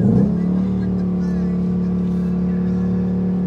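Ford Mustang S550 held at about 4,400 RPM for a launch, a loud steady engine drone with a brief rougher burst at the very start, close and continuous.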